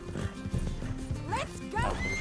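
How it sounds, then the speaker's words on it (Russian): A horse's hooves clip-clop over a busy Red Dead Redemption 2 game soundscape, and a horse neighs twice, rising and falling, with voices underneath. "Почему я слышу свою лошадь в левом ухе?"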